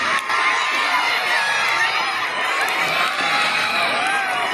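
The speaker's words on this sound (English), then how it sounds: "cheer up for your own team" Students at a school sports day cheer and shout for their house teams, a dense, continuous roar of young voices with whoops and calls, loud and close throughout.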